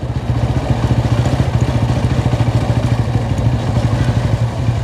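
A motorcycle rides along the NH 66 national highway near Pantheerankavu, Kozhikode, its mid-pitched engine droning steadily and close up with a rattly pulsing beat and light clatter throughout, no talking.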